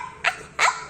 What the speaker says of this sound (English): please, stop barking.